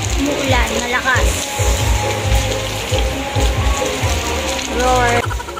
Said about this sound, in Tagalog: Umuulan, malakas.